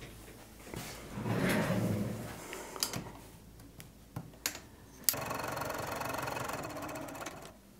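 A sewing machine topstitches a fat quarter tote bag at a 3 mm stitch length, running in short buzzing bursts separated by clicks and handling noises, then settling into a steadier run near the end.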